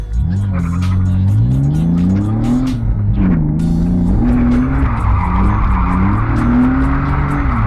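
A car drifts with the handbrake, its engine revving in rising and falling sweeps while tires squeal loudly through the slides, close and continuous.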